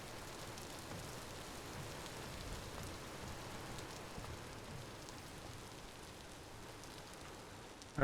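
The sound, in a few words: rain on roofs in the video game Vintage Story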